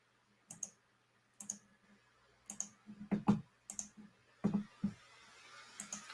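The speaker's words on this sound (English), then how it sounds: "Click, click, click, click, click." A computer mouse clicking in a quiet room, a string of sharp, close clicks in loose pairs and small bursts spread across several seconds, with no talking.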